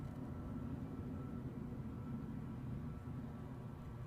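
An Aegean airliner taxiing at Edinburgh airport, heard as a low, steady engine rumble, distant and fairly quiet, with no talking.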